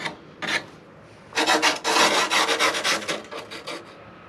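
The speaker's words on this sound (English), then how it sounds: "all I'm doing is just knocking down that edge just a little bit with some sandpaper" Sandpaper rubs along the edge of a built-up 60-inch Extreme Flight Laser model airplane, starting with two brief scratchy strokes, then a quick run of rhythmic rasping passes, close and fairly loud with no talking.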